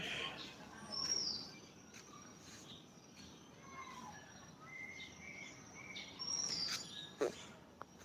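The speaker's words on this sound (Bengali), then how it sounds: "এখানে কত সুন্দর পাখিদের ডাক" Faint, scattered bird chirps and tweets come and go over a quiet, hissy outdoor background.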